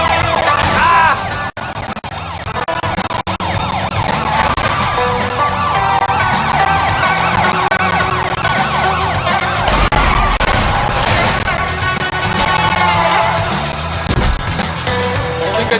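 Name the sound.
police car sirens in video game Sleeping Dogs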